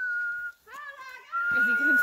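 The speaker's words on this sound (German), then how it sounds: "Jetzt geht das Gepfiffe wieder los." A person whistles a sustained, shrill tone, breaks off, then whistles a wavering melody and picks the long steady note up again. A voice chatters underneath near the end.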